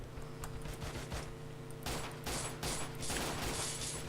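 Pistol gunfire in a Counter-Strike-like video game: rapid, closely spaced shots in dense bursts over a continuous game background, loudest in the second half.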